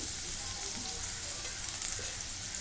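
Onion frying in oil with bay leaves and cinnamon pieces, a loud, dense, continuous sizzle with fine crackling spatter, steady throughout and close up, no voices.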